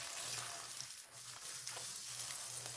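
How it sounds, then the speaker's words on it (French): Chopped onion and garlic sautéing in a frying pan, a steady, close sizzle with faint stirring and no talk. "Maintenant, dans cette même poêle, ajoutez un oignon haché."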